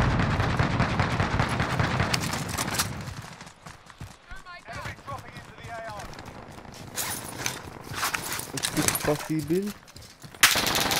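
Incoming gunfire striking the player in a multiplayer shooter, rapid bursts of shots up front and again near the end, mixed with game effects while players talk over it.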